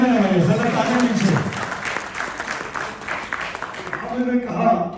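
An audience at a public event honouring a former central minister breaks into sustained clapping, which swells, thins briefly and rises again, with a speaker's voice talking over it.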